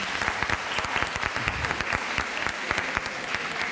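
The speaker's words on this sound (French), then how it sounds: "vous pouvez les applaudir" Audience applause at a round-table discussion on interdisciplinary health work, given for the specialists; steady, fairly dense clapping with sharp individual claps standing out, heard alone at moderate loudness.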